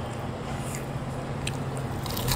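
Crunchy, wet chewing and biting while eating boneless honey chicken wings from Chinese takeout, close and steady, with a low hum behind it and no talking.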